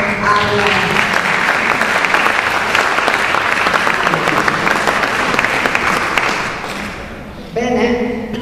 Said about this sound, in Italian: Un applauso al...